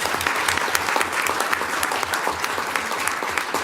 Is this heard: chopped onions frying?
no